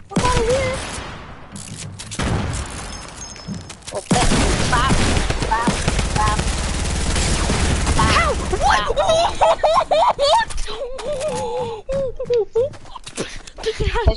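Explosions and heavy gunfire in a shooter video game, with bursts of booming blasts and rapid shots crowding together, loud and close, while people talk over the action.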